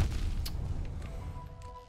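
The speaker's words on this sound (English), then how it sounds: "The explosion is so huge." An explosion in the video game Hollow Knight hits as a loud, deep boom right at the start, then rumbles and fades over about two seconds with a few small crackles.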